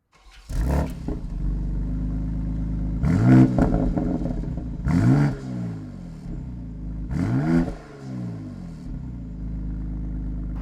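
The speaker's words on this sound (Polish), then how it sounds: "właśnie posłuchajmy teraz wydechu" A BMW X3 M Competition sports SUV engine, 510 hp, idles low and is revved repeatedly, four sharp throttle blips rising and falling over a constant rumbling exhaust.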